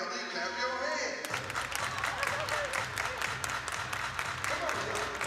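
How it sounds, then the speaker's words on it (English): Crowd clapping at a girls' 12U ice hockey championship game begins abruptly after a brief sustained tone. It continues steadily as a broad wash of many hands, with an announcer's voice audible over it. "Everybody clap your hands."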